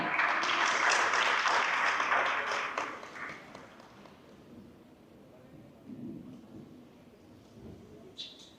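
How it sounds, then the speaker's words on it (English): Audience applause at a ceremony after thanks are given to named guests, a dense crowd clapping strongly for about three seconds, then tapering into sparse scattered claps and a soft murmur. "A huge round of applause, please."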